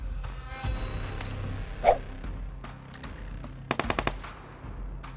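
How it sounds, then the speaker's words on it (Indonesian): Machine gun fire in the PUBG Lite shooter game: a quick burst of rapid, close shots near the end, after a single sharp report earlier, over a low rumbling game ambience with no talk. "Tembakan."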